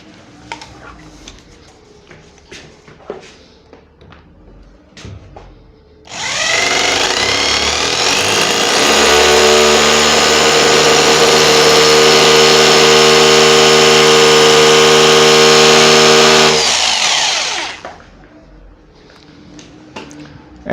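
A power drill bores into a wall while a whiteboard is being mounted, a loud close steady whine that starts abruptly, holds for about ten seconds and then cuts off, with quieter handling noises before and after.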